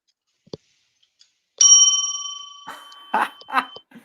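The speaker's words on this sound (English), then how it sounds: "What's going on with the bell?" A small bell gives one sharp ding that rings briefly, followed by a few soft knocks and rustles.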